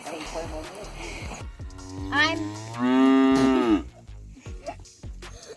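A long, low cow moo swells in the middle, close and loud, with faint background voices before and after.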